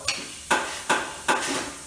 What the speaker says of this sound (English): that's that noise you hear, the knock, knock, knock, that's it adding air pressure.